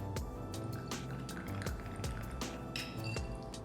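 Vodka poured from a jigger into a cocktail shaker for a lemon drop martini, a soft liquid trickle and drips close by, set against steady background music.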